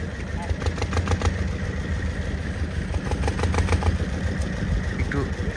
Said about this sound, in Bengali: ওই যে নৌকাটা চলছে ওইখানে